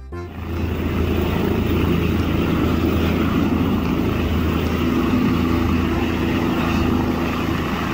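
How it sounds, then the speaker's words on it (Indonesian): A toy helicopter gives off a loud, steady motorised whir that starts abruptly and holds an even droning pitch with a faint whine throughout, no voices. "Helikopter"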